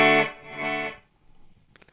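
Electric guitar through a Walrus Audio Descent reverb pedal: two sustained chords ring out and fade into a reverb tail, followed by a few quiet plucked notes near the end, with no voices.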